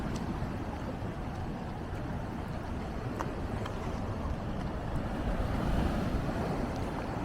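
Rough sea waves wash against Paphos harbour in Cyprus, a continuous low rumbling surge mixed with wind noise, with faint scattered clicks and splashes over the top.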